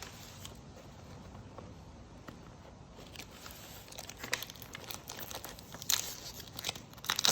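Tissue paper crinkles and crumples while tropical plants are packed, soft rustling close by that starts quiet and grows busier, with sharper crackles toward the end.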